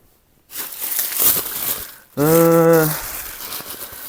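A well-wrapped package is unwrapped up close, its wrapping crinkling and rustling loudly for over a second, followed by a short, strongly tonal squeal before the rustling resumes more quietly.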